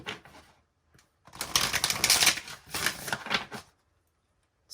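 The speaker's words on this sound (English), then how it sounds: "Ooh, that's an ugly shuffle." Tarot cards being shuffled in a few quick riffling bursts, close and crisp, with short pauses between.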